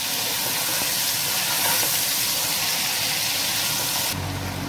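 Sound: chicken frying in a pot for Afghani pulao

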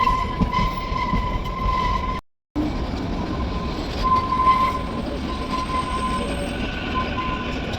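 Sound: train travelling on the way to a station

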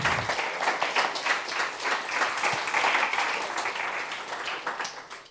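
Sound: applause from an audience

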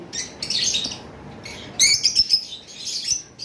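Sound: lovebirds calling in a bird shop

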